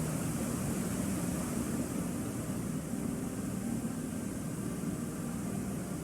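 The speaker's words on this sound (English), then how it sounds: "that hissing noise I was hearing actually wasn't the pipes, it was the waterfall" A waterfall in the video game Blue Prince gives off a steady, unbroken hiss of rushing water that stays even and fairly loud throughout, with no voices.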